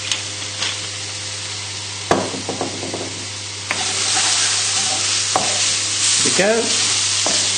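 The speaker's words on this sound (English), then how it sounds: "we'll give that a stir" Leeks fry in a pan and are stirred with a few scraping clacks of a utensil over a continuous sizzle that grows louder partway through; someone says a few brief words.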